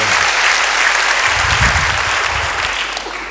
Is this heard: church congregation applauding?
yes